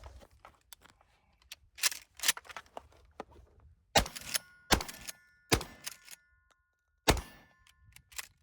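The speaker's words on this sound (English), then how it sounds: "Let's go do some top-off loading with this particular shotgun over here." Shells being top-off loaded into a PW-87 pump shotgun give a series of sharp metallic clicks and clacks, spaced irregularly with short pauses between them, close and fairly loud against a quiet background.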